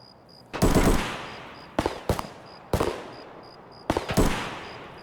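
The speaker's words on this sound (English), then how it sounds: "So who's shooting at who here?" Gunfire in the Escape from Tarkov video game comes in four loud, close bursts of automatic fire, each a rapid cluster of sharp cracks separated by short pauses.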